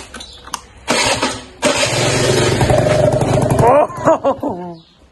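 Engine of a new motorcycle starts on the key and runs steadily with a mid-pitched drone for a few seconds, loud and close, then cuts off while people talk briefly nearby.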